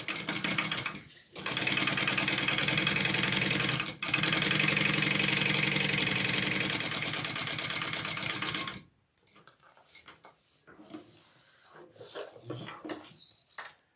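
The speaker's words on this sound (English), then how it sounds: "so we're gonna top stitch along this folded edge" A sewing machine top stitches along the folded edge of a slippery Moose Fiber Co. backpack, running loud and steady for about nine seconds before stopping, followed by quiet scattered handling noises.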